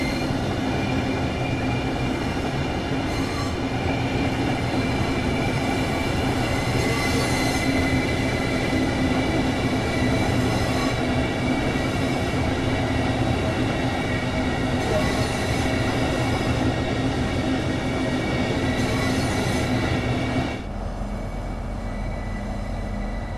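Southeastern high-speed electric train in Train Sim World 2, a steady in-cab running rumble with a faint whine and rail noise throughout, level and unbroken until an abrupt shift to a quieter, duller tone near the end.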